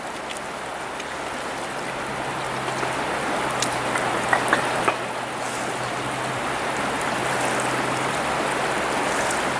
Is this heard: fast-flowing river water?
yes